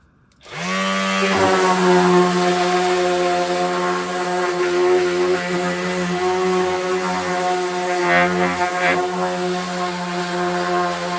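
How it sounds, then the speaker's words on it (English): A power sander on wood whines steadily and loudly, a droning motor hum with shifting grinding noise on top, running without pause and with no voices. "So now we can sand this back part right here, get it in."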